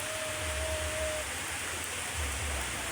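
Rain falls steadily at an outdoor community gathering, a soft even hiss with low rumbling underneath and a faint brief tone early on.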